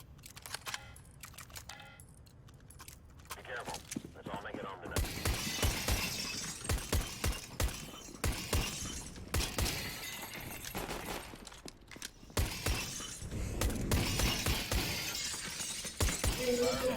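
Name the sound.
glass windows being shattered in the video game CS:GO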